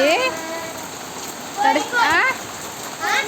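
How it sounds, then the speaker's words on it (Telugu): Steady rain pours down close by, with a voice and other chatter breaking in briefly over the constant patter. "అందుకనే ఈ వర్షం"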